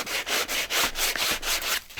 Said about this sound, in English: sanding block along your edges a little bit.